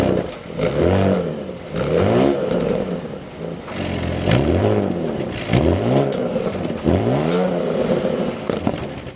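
A 2025 Audi S6 engine starts and idles, its exhaust note rising in several rhythmic revving swells across the stretch, close and loud with no talking.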